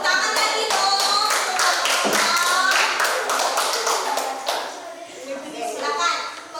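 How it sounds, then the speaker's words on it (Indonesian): Students in a university classroom in Malang clapping for a presenting group, a lively run of sharp, close hand claps that gradually thins and fades, with voices murmuring underneath. "Ayo tepuk tangan lagi dong."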